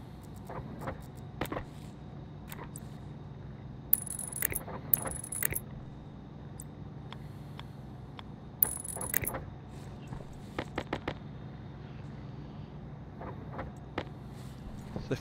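A fabricator in the video game Stationeers printing cabling: a low mechanical hum under scattered clicks and clanks, with a few louder metallic bursts, no talk.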